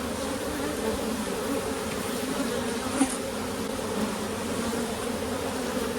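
Honey bees hum in a steady, dense drone from an opened hive during an inspection and requeening, continuous and close with no talk over it.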